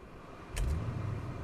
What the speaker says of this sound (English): And let's start the car, shall we?